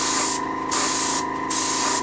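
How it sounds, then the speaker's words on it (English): An airbrush sprays black paint onto a Warlord Titan model in short hissing bursts, about four close, loud pulses of air separated by brief pauses, over a faint steady hum. "Have my airbrush and have some black in there. You can see that just coming out on there."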